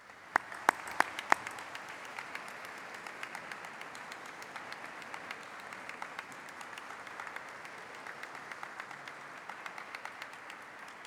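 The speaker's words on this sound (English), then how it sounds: "Will you please applaud them in return?" Graduates at a congregation ceremony applaud their supporters, a fairly distant, thin and somewhat quiet round of clapping from a large hall, with a few close sharp claps at the start.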